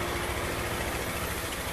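A repaired Honda CG160 Cargo motorcycle engine idles steadily up close, a smooth, even low rumble with a regular pulse and no knocking, with no voices.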